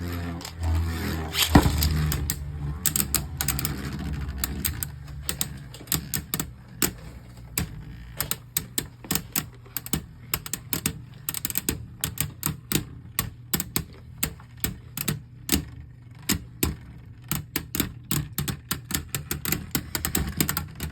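Beyblade Burst spinning tops launched into a plastic stadium, giving a steady whirring rattle with a burst of clashing around two seconds, then a dense run of sharp, rapid ticking and scraping impacts, close and fairly loud, with no voices.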